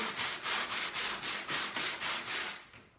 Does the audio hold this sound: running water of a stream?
no